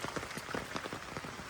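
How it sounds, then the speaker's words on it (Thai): Steady morning rain falling on surfaces outdoors, a dense continuous patter of drops with scattered louder splats, close and even throughout, no voices. "เป็นอีกเช้าเนาะที่ฝนตกตั้งแต่เมื่อคืนนี่แหละพี่น้อง"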